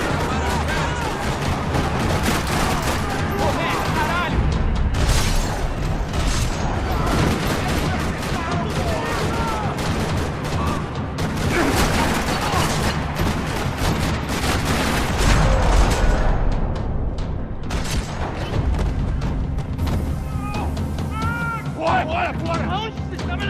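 In a parking lot in the Max Payne 3 video game, dense gunfire rattles continuously with bursts of automatic fire and loud booms, while voices shout over the shooting.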